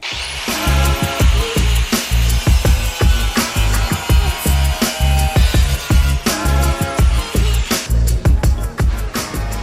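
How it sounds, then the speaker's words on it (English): An angle grinder cuts straight across a metal fender flare on a Nissan 240SX, a loud, close, continuous whine with rapid rhythmic pulsing and scraping from the disc biting the metal. "once you place the grinder, you're just gonna cut it straight across"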